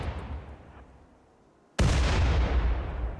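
In the Rimworld video game, a grenade explosion destroys a turret with a sudden loud boom breaking a quieter background hum, then a sustained heavy rumble continues.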